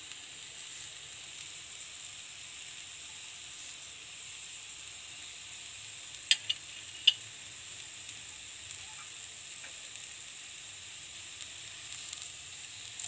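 Vegetables for veg patisapta filling sizzle in a pan with a faint, steady hiss, broken by a few sharp clicks of stirring.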